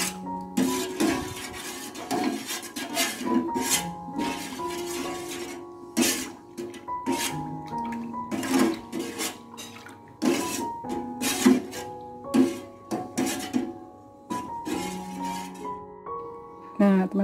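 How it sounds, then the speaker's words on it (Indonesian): A spoon stirs coconut milk sauce in a pan, with repeated scraping and clinking strokes against the metal in an uneven rhythm, close and clear with no talking. "Diaduk sampai mendidih dan santannya mengental ya"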